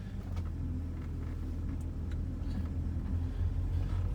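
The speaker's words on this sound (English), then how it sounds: "let's take this thing for a test drive" A BMW E30 running slightly rough after new spark plugs, wires and distributor gives a low, steady engine rumble from inside the car on a test drive, fairly quiet and continuous with faint road noise.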